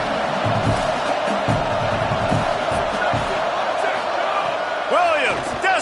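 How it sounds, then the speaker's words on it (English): A dense, steady crowd roar rises in a college football video game as the defense faces third down, broad and loud throughout, with a few rising whoops and whistles near the end. "Decibels rising as the crowd gets behind this defense on 3rd down."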